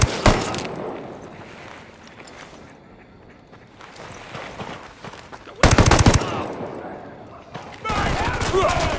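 Bursts of rapid automatic gunfire in a video game firefight, loud and close, coming in heavy volleys separated by quieter stretches, with shouting voices over the shooting.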